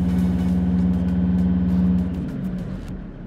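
A car engine revs hard during an OBD diagnostic check of its EGR valve, holding a loud steady drone for about two seconds and then easing back toward idle, heard up close with no talking.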